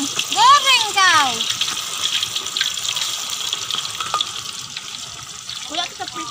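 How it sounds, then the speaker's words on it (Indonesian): Chicken pieces frying in a pan while cooking Thai-style lemongrass chicken, a steady hiss and sizzle throughout with water-like splashing, and voices speaking briefly near the start and end. "kita masukkan ayam, kita goreng ya guys"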